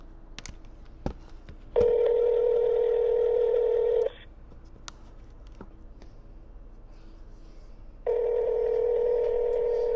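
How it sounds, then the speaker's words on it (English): A telephone call goes out: two long electronic ringback tones sound, separated by a quiet pause, each steady and clear, with a few faint clicks before the first tone. "Hopefully, she will answer this call, so here we go. Hold on. Here we go. I am calling right now."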